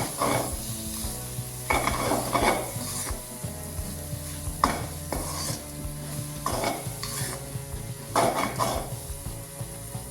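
A spatula scrapes and stirs vegetables and egg for upma in a sizzling pan, with repeated clinks against the metal and steady frying underneath.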